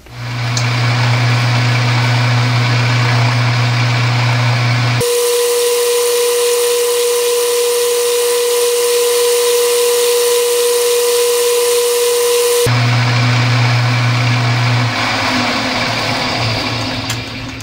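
A metal lathe trims the 3/8 section of a compound-slide leadscrew to length. Its steady motor hum and whine shift tone midway through the cut, then return, with no voices.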